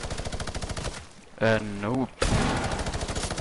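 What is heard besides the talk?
gunfire in a video game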